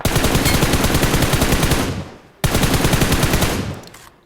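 Automatic gunfire in the BGMI battle royale game, two rapid loud bursts of rattling shots, each about two seconds long, separated by a brief gap.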